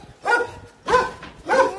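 An angry dog barks three times at a steady pace, each bark loud and close with nothing else in between.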